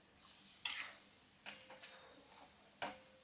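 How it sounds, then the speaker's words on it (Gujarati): Paneer fries in a pan with a faint steady sizzle, broken by a few sharp scrapes and clinks as it is stirred. "એટલે એ સારી રીતે તળાઈ જાય છે પનીર આપણું."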